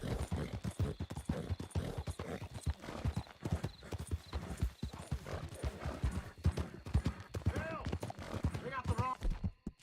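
Horse hooves clip-clop steadily in Red Dead Redemption 2, close and continuous, with an occasional whinny and someone talking over the gallop throughout.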